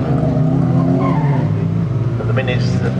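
A Mini rally car with a 1293 engine drives hard on a live rally stage, its engine roaring loudly and steadily with tyre squeal; a commentator's voice runs over it.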